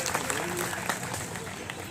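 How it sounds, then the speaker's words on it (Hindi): At a Women's Day event in a DRM office in Hazratganj, Lucknow, an indoor audience claps steadily in a dense burst of applause. "तालियां बजाएं।"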